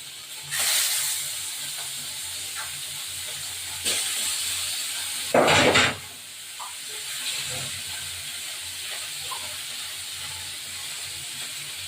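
Hot oil sizzles and hisses steadily, with a sharp louder crackling burst partway through as salted, turmeric-coated tilapia fish hits the pan.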